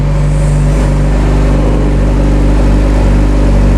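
A Yamaha R6 sport bike with a toast exhaust runs loud and close, its engine holding a rough, steady, throbbing drone with slight rises in revs throughout, filling the space with no talking.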